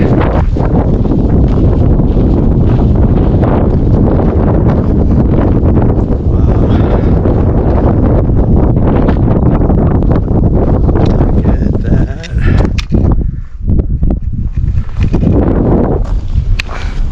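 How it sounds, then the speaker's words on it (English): Strong wind on the Deer Park Trail in Olympic National Park, Washington, blows steadily and loudly across the microphone, a constant roaring buffet that eases slightly near the end. "It is definitely windy, but it feels good."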